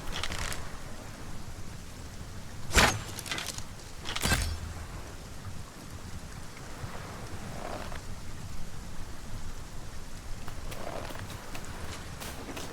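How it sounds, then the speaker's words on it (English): Heavy rain downpour in the video game Dragon's Dogma 2, a steady dense hiss of falling rain throughout, broken by two sharp loud impacts early on and a few fainter bursts later. "Must we do battle amidst this dreadful downpour?"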